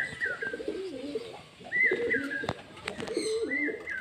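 Pigeons, young birds kept for flying, coo in repeated throaty, rolling phrases close by, several calls overlapping with faint background chirps and no talk.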